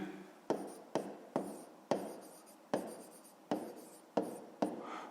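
Pen strokes on paper during a fifth-grade maths exercise, a close run of about eight sharp scratchy strokes, each with a crisp attack and a short fading scrape, steady and alone.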